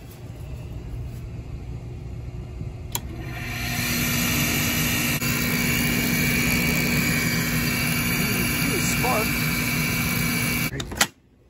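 An HVAC unit powers up from around four seconds in: a steady broadband rumble and whir rises and holds loud, with a sharp click near the end as it cuts off abruptly.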